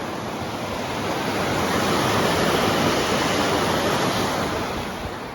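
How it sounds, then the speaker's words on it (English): A river in the Italian village of Vernazza rushes steadily as a loud, continuous broadband roar of flowing water, close by and unbroken, with no voices over it. "Here's the river down here."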